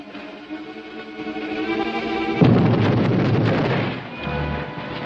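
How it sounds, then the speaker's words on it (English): An explosion sound effect from an old film, a sudden loud rumbling blast that rises out of a swelling rushing noise and then slowly fades into a low roar. "Explosion."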